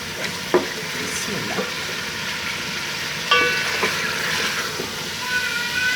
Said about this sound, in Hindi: बस हमें थोड़ा सा इसको और फ्राई करना है ताकि इसका अच्छा सा वाइट कलर आ जाए।